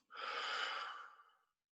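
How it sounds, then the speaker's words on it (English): A single long exhale pushed out through the mouth during a tai chi and qigong breathing exercise, a close, steady breathy rush lasting over a second before fading to silence. "And exhale through the mouth."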